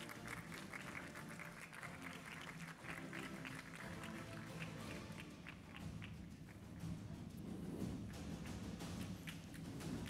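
An audience at a women's summit in Dakar claps in a steady, moderately quiet ovation that continues throughout, with scattered thumps and faint murmuring beneath.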